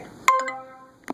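A phone sounds its low-battery alert in a house: a short, bright two-tone chime, then a second brief tone about a second later, with quiet room noise between.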